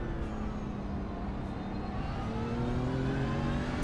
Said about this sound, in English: You get to hear the beautiful drone of the BMW.